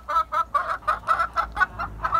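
A newly arrived blue-egg-laying Ameraucana hen clucks in a steady series of about nine short, evenly spaced clucks, close and clear over a quiet background.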